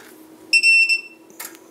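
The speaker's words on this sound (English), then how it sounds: "The fan started up and it's beeping." A Mercury automatic antenna tuner powers up with a short electronic beep, a high clear tone lasting about half a second, followed by a faint click against a quiet background hum as its fan starts.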